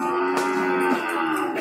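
Slaughter cattle, including Limousin stock, moo at a Pon-day livestock market in Prambanan, Klaten, with loud, drawn-out lowing rising over the steady crowd hubbub of the market.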